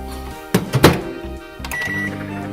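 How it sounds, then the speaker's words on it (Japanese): A few clunks and a door thump, then the low steady hum of a microwave oven starting up, ending with a brief high beep. "もう一回最後に電子レンジにかけます"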